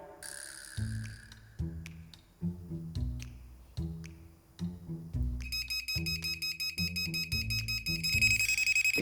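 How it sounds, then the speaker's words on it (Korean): A home carbon monoxide detector in a rural wooden-stove house during a -18°C winter, sounding a loud, rapid repeating electronic beep pattern that becomes steady and insistent, over clattering thuds in the background. "자꾸 제가 가지고 있는 이 일산화탄소 경보기가 엄청 심각하게 울리는 거예요"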